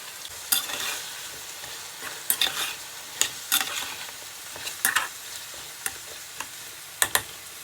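Thinly cut potatoes with turmeric powder and green chilies frying in a pan, a soft steady sizzle punctuated by sharp scrapes and clicks of stirring, close and fairly quiet, no talk.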